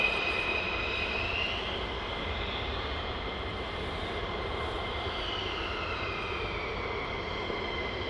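Military jets at RAF Lakenheath, with F-15s preparing for departure at night, produce a steady, distant engine roar and whine that holds level throughout, with no voices over it.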